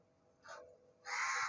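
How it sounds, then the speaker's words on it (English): Crows perched on a rooftop outside give two caws, a short one then a longer harsh call, fairly distant and alone. "You can see there are crows on top."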